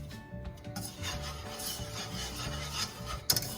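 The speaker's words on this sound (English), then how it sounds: "you definitely want to keep stirring this" Flour roux stirred continuously in a pan on a stove over low heat, giving a steady, close scraping and rubbing from repeated strokes, with no talking.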